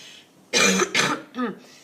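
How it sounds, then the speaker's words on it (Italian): A close, throaty cough repeated in three quick bursts, the last one softer, with no talking. "ancora un po' di tosse"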